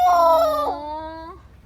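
A puppy whining in a car on its first ride home, one close, loud, high whimper that bends and slides downward before fading into quiet.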